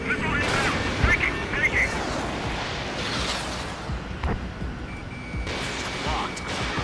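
Incoming-missile warning in the jet combat game Ace Combat 7, steady high alarm beeps running through roaring engine noise and explosive booms, with a radio voice talking over the action.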